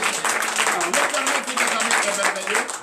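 A congregation at a morning prayer service claps and cheers in acclamation, a lively, rhythmic clapping with voices mixed in and raised over it.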